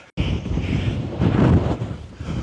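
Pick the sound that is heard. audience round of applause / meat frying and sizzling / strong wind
strong wind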